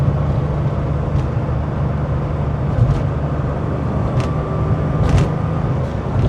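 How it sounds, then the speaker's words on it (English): A 1985 Porsche 911 Carrera flat-six engine heard from inside the car with the windows up while driving on a bumpy road, giving a steady, loud low drone with a few faint clicks and rattles. "Just want you guys to be able to hear that flat six."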